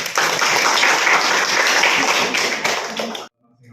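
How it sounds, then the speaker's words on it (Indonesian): A vocational school maths class applauds after the presentations with loud, dense clapping that stays steady for about three seconds and then stops abruptly, leaving near silence. "Oke, kasih tepuk tangan."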